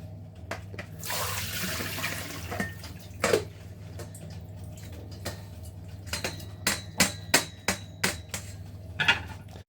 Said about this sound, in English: we've drained, and we're now rinsing with cold water, and the nettles should now be completely harmless